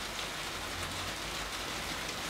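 Heavy rain pours down at home after a trip into town, a dense, even roar of drops hitting surfaces that stays close and loud throughout the short stretch, with no voices.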